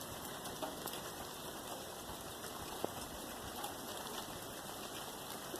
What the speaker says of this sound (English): And this rain will help.